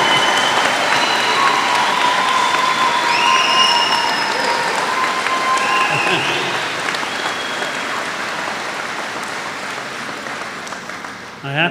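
A large audience in a gym applauds graduates at a convocation ceremony, a loud, sustained wash of clapping with some cheering that slowly fades toward the end.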